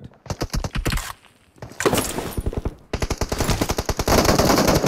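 Rapid automatic gunfire from a 2v2 team deathmatch video game match: close, loud bursts of fast shots that break off briefly, then resume in denser volleys.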